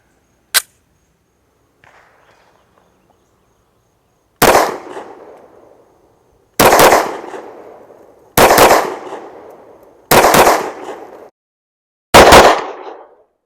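Springfield Armory XDM Elite OSP Compact 10mm pistol firing outdoors: one sharp shot, a pause, then five loud evenly spaced shots about two seconds apart, each with a ringing echo.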